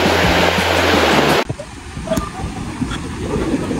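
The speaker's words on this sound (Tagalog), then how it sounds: "Ang ganda ng view at yung alon, mapresko." Loud rushing surf fills the first part, then cuts abruptly to a quieter wash of water with scattered splashes and a low rumble.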